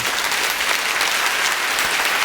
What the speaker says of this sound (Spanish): Creo que merece otro aplauso el Señor.